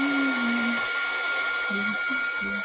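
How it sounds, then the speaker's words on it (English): A heat gun whirs steadily while heat embossing an Easter card, a constant high-pitched blowing hum that runs the whole time, with a woman's short sung or hummed notes over it. "We're going to heat emboss it."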